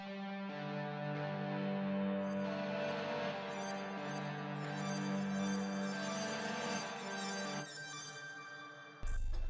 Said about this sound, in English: Just like a nice ambient distorted guitar to add like a nice texture to the melody.